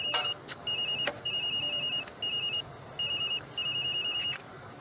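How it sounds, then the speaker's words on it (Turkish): A telephone rings in repeated short electronic trills, bursts separated by brief gaps, fairly close and clear over faint background noise. "Ay telefon çalıyor."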